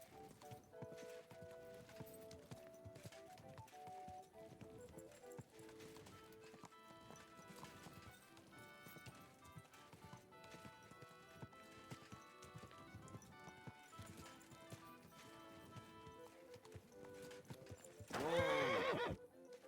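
Faint hooves clip-clop over a soft music-like background in the video game Kingdom Come: Deliverance II, and a horse whinnies loudly near the end.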